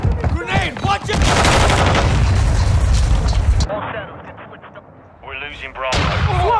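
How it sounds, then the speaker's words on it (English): A grenade blows up in the video game Call of Duty DMZ with a loud, heavy blast and a rumbling tail, amid further booms and gunfire. Voices talk over the chaos. "Grenade, watch it!"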